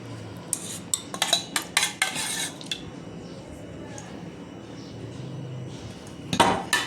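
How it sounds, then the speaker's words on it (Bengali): A spoon works semolina batter mixed with chocolate syrup around a bowl. Close, irregular clinks and scrapes against the bowl come in quick clusters, then a quieter stretch before a final burst of stirring. "এটা ভালো করে মিক্স করব"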